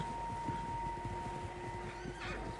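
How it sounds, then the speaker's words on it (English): Horses in Red Dead Redemption 2, a whinny rising over a low rumble of hooves and ambient game noise, somewhat distant and faint. "Horses, quite a few of them."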